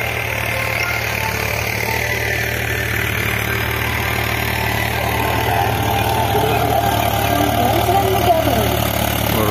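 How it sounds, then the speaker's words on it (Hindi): Tractor engine running as it cultivates a field in a village during the hot Ashadh season, a steady mid-pitched drone with a constant low hum throughout, close and unbroken. "ट्रैक्टर चला रहा है अपना"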